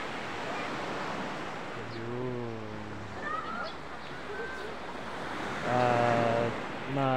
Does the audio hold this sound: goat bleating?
no